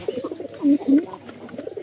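A pigeon coos close by, a couple of soft, throaty low notes in quick succession over faint background noise.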